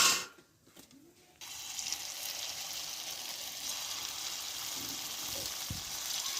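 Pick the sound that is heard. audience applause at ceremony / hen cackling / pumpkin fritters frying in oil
pumpkin fritters frying in oil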